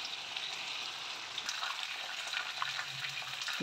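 Chicken pieces frying in oil in a kadai, a steady close sizzle that runs the whole time with faint stirring clicks, and no one talks.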